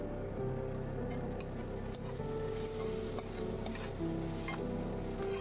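Mutton being slow-fried and stirred in a pan for doi mutton curry, a steady close sizzle with scraping spoon strokes and occasional clinks throughout, no voices.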